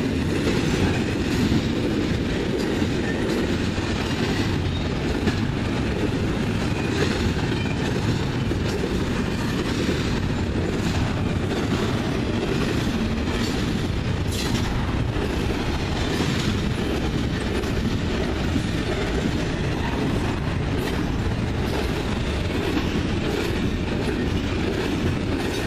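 CN freight train Q198, led by Progress Rail EMD Tier 4 ST70AH demo locomotives, rumbles past close by, its loud roar broken by steady wheel clatter and occasional squeals for the whole stretch.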